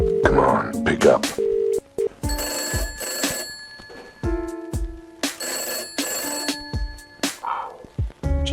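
A telephone rings inside the video game Cat Detective Albert Wilde, several loud electronic ring bursts with short gaps between them, mixed with game sound effects.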